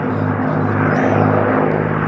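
A P-51 Mustang propeller plane flying aerobatics at an air show gives a loud, steady engine drone that holds throughout with a faint rising whine.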